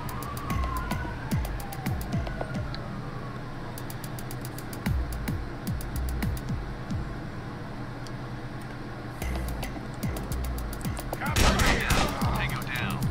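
Gunfire in the Door Kickers tactical game: a long run of sharp, rapid shots in bursts over a steady game background, with a siren-like tone and a louder clatter of effects near the end.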